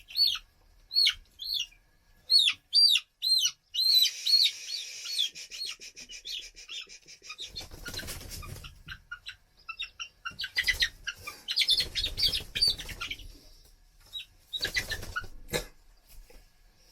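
Young chicks cheep in a nursery coop, with bright rhythmic peeps close by at the start, then a scattered flock chirping over soft rustling and bursts of scraping noise.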